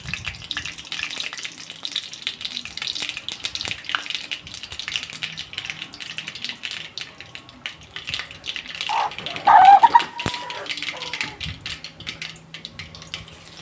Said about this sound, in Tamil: எண்ணெய் ஊற்றி கடுகு போட்டுக்கோங்க கடுகு போட்டாச்சு